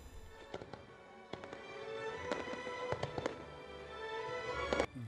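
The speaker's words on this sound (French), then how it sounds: "Les feux d'artifice de la 8e édition du festival Abidjan Perles des Lumières ont tenu toutes leurs promesses." Fireworks go off at the 8th Abidjan Perles des Lumières festival on New Year's night, with a dense run of sharp bangs and crackles over a steady rumbling background.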